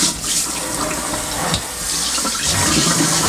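Running tap water splashes steadily into a stainless steel sink as it is rinsed out, a close, continuous rushing wash with a slight surge near the end.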